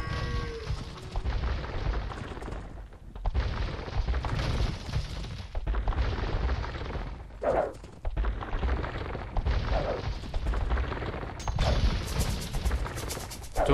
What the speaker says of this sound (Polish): Tu słyszę jakieś wybuchy